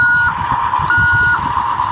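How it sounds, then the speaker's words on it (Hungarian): A dump truck backing up on a construction site sounds its reversing alarm, loud, evenly spaced electronic beeps over a low engine rumble. "És amikor tolat, bekapcsolja a tolató csipogót"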